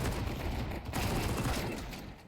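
Sustained automatic gunfire spraying in a Counter-Strike match, a dense, continuous burst of rapid shots lasting the whole moment, loud and close with no pause.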